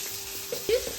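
Amudi fish frying in oil crackles with a steady, soft sizzle over one second, with a faint stirring knock near the end and no voices.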